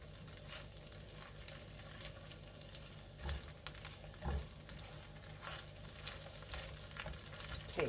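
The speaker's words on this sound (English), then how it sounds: "You can hear it cooking, because we're just kind of cooking the anchovies here." Anchovies frying in a pan for a cherry tomato pasta sauce, giving a faint, steady sizzle and crackle with occasional soft stirring knocks, no voices.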